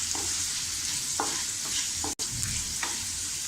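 Turmeric stirred into a hot tempering in a pan, frying steadily with a soft continuous sizzle and occasional scrapes of a spoon against the pan, close and alone.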